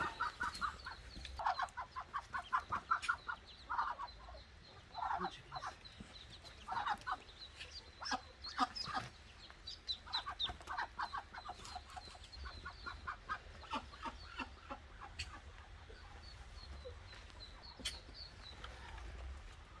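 A mother duck clucks and calls repeatedly while her ducklings peep, near and steady throughout as someone tries to catch her in a net on a homestead.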